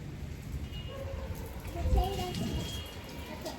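Heavy rain pours steadily outside during a thunderstorm, a dense, continuous wash of noise heard from indoors at moderate level, with faint voices in the background.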